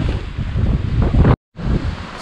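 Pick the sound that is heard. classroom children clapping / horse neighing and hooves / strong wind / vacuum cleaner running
strong wind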